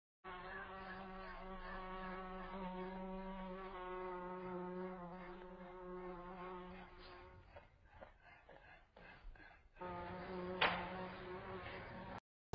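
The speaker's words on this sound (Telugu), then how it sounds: "ఆ దోమ సౌండ్ ఫోన్లో రికార్డ్ చేసి" A mosquito's buzzing, recorded and played back through a phone speaker, forms a thin, steady, high whine with a few short breaks and a brief louder flare near the end.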